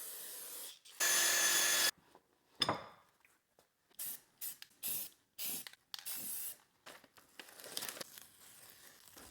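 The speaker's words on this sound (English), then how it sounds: "I did find that brake clean just ate right through that old paint" Aerosol brake cleaner sprayed onto old paint on a 50-year-old tractor: one long steady hiss, then a string of short, close spray bursts separated by brief gaps, with some rubbing and rustling between them.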